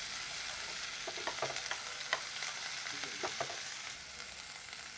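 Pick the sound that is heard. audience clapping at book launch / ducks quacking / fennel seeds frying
fennel seeds frying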